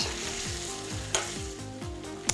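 Ginger sizzling in a hot pan for a Chinese mince and pepper stir fry, a steady close crackle with a rhythmic scraping stir repeating about every half second, no voices.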